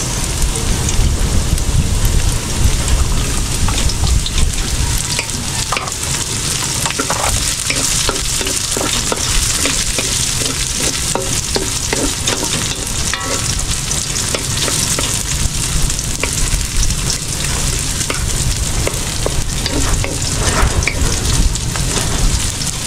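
Garlic and onion sauté in a pan, a steady loud sizzle with stirring scrapes and crackles running throughout, no talk over it.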